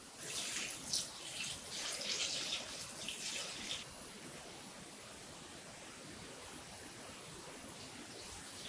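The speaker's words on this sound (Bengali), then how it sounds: "এখন মাছটা একটু ধুয়ে নেব।" Tap water runs in a steady splashing stream while cut hilsa fish pieces are washed, louder and brighter for the first few seconds before settling into a softer, even flow.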